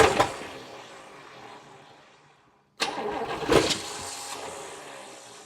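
A 1961 Chrysler 300G engine with rattly lifters cranks over twice, a steady starter churn that fades out, stops briefly, then resumes with a louder burst.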